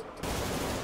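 A sudden burst of dense gunfire erupts after a short quiet moment in a GTA roleplay game, loud and continuous to the end.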